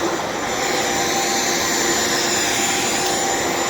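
A Shark Vertex vacuum cleaner running close up on the floor, a loud continuous high-pitched whooshing whine that holds steady without break.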